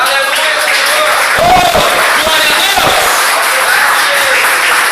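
Loud congregation applause and cheering during a church sermon, a dense continuous roar of clapping and voices throughout, with a brief spoken exclamation rising over it.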